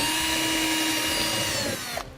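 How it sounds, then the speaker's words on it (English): A power drill whines steadily while boring a pilot hole into a car's gas door panel for an inflation valve, then winds down abruptly near the end. "we're going to drill a pilot hole right in this area here so we can mount our inflation valve"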